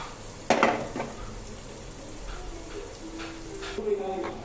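Onions fry over a high flame in a pan, a soft continuous sizzle broken by a sharp utensil clank early on and a few scraping stirs; faint voices murmur in the background.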